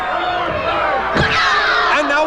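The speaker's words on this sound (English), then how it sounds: "Now she stomps on the fallen Ferrari." A wrestler stomps on a fallen opponent during a G.L.O.W. women's wrestling match, a loud thud or two landing over a constant roar of arena crowd noise, with a commentator's voice running throughout.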